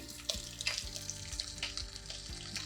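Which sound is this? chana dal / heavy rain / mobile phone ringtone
chana dal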